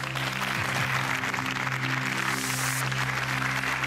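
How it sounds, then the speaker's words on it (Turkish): Spectators at a Quran recitation contest clap after a score is announced. The applause is steady and moderately loud over a constant background hum. "70 alkışlıyoruz"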